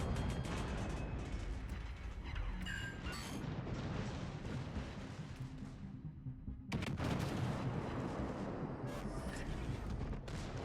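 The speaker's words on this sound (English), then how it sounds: "we could potentially fire our main guns here and not get picked up" Warship main guns firing in World of Warships Legends: loud booming blasts over constant heavy game rumble, with a brief lull before another burst of gunfire and mechanical clatter.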